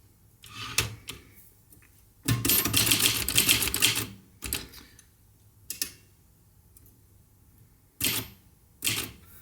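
A Facit TP1 typewriter's mechanism clicking and clattering in several separate bursts, one long rattling run and shorter snaps between quiet pauses, heard up close.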